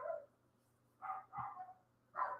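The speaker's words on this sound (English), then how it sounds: "I do not know why my dogs are going crazy" Dogs in a home bark in three short bursts, a single yap followed by a pair of louder barks after a pause, moderately close with a low steady hum beneath and no talk.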